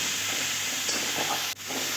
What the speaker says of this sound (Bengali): তো সুন্দর করে মশলাটা আমি ভাজা ভাজা করে কষিয়ে নেবো